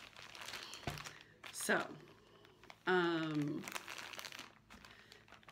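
A plastic bag crinkles and rustles in short bursts as it is handled close by, interleaved with someone speaking briefly.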